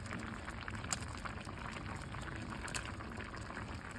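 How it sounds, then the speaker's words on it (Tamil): Coconut kootu curry with ground coconut paste, cumin and jaggery simmering in a pot, giving a steady low bubbling and soft liquid churn throughout, with a few brighter pops, close and continuous without talk. "எல்லாம் சேர்ந்து கொதிக்கட்டும்."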